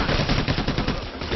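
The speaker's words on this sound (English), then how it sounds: "They're just shooting at their flashlights." Rapid bursts of gunfire in the video game Payday The Heist, a dense, continuous volley of shots crackling steadily and loudly throughout, with no talking over it.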